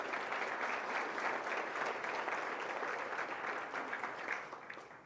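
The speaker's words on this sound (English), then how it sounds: "just join with me in another round of applause for them" An audience at a city's State of the City address gives honorees a steady round of applause, even and moderately distant, tapering off near the end.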